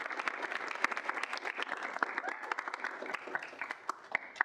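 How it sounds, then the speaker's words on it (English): Audience at a student senate meeting gives a round of applause, a steady patter of many hands clapping at moderate distance, fairly faint and continuous throughout. "If we get a round of applause."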